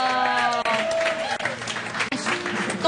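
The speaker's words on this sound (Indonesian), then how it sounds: "Tepuk tangan buat Rio." Studio audience applause on an Indonesian TV talk show, a dense steady wash of clapping filling the moment, with music tones lingering underneath.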